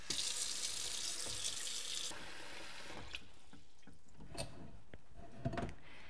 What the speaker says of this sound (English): To cool this milk down rapidly, I'm going to float it in a sink of cold water.